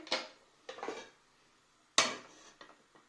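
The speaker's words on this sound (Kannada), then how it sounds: "ಕುಕ್ಕರ್ ಇಟ್ಕೊಂಡಿದ್ದೀನಿ ಒಂದು." A few sharp metallic clanks and knocks of a pressure cooker being set down and shifted on a stove, close up with quiet gaps between.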